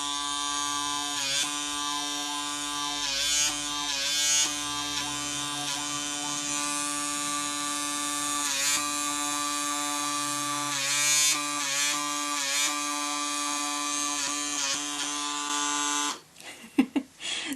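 A PMD Personal Microderm device hums with a steady, close electric buzz as it is dragged up the nose, holding one constant tone for many seconds before it stops abruptly near the end, with no talk.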